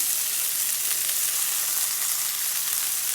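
Shredded beef tossed with onion powder, garlic powder and meat seasoning sautés in a pan, a dense, even, loud sizzle that holds steady throughout with no voices.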